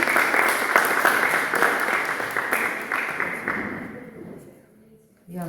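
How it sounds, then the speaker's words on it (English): A church congregation claps for the Lord, a loud round of many hands that gradually thins out and fades before a voice begins speaking. "Let's give a hand clap to the Lord for the anointing."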